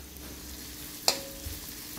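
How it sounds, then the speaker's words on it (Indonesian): Shallots and garlic sauté in hot oil in a wok, giving a soft, steady sizzle close by with one sharp clink of a utensil partway through. "Bila minyak ni panas, kita tumis dulu 3 biji bawang merah halus dengan 3 ulah bawang putih"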